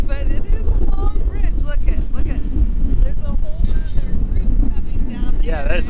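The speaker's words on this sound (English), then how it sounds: "Because it's windy up here." Gusty wind buffets and rumbles against the microphone high on the New River Gorge Bridge walkway, while people talk over it almost continuously.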